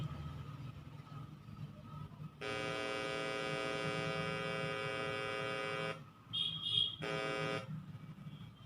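A harsh buzzing square-wave test tone from a speaker starts abruptly and holds steady for several seconds, cuts out briefly, then returns in a short second burst over faint hum.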